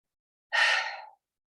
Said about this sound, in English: Exhale through your mouth.